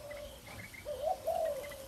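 An Oriental magpie-robin calls in short, clear whistled phrases, fairly faint and alone with no talk, rising in a couple of brief bursts over a quiet background.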